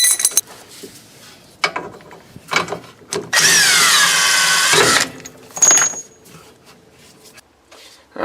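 A power tool works on a rear suspension nut of a 2001 Lexus IS 300, with one loud, steady whirring burst of about two seconds amid close metallic clinks and tool handling.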